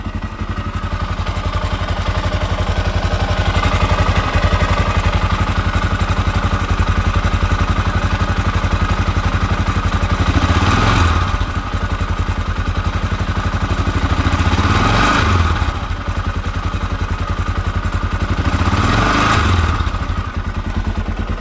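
A rebuilt Honda XR500 single-cylinder motorcycle engine runs loud and close with a steady rapid thump and mechanical clatter. The revs rise briefly three times, and no one speaks.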